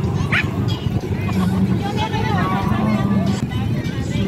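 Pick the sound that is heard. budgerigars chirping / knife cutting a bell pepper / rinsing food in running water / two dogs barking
two dogs barking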